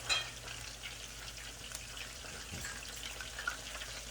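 Quiet, continuous sizzling and popping of chicken frying in oil, low in level with a few brief crackles.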